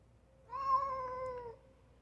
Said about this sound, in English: See that cat?